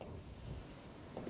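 A pen scratches briefly and softly as a program function is written out by hand, with a few quick close strokes in a quiet room and no talk.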